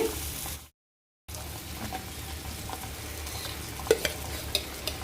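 Ghee stirred into a pot of sweet chakra pongal, a soft sizzle and faint stirring scrapes with a brief dropout near the start, then occasional light clinks and taps.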